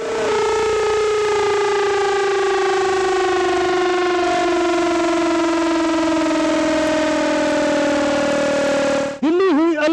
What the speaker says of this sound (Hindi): दिल्ली में 3 बजे बजा सायरन।